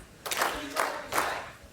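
Crowd at a women's bowling match clapping encouragement in three short, separate bursts, close and moderately loud.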